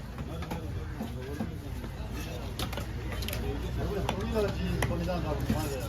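An oosi kola fish being cut at a busy Kasimedu fish market, a rapid series of close, sharp knife chops and thuds under steady crowd noise, with voices talking nearby throughout.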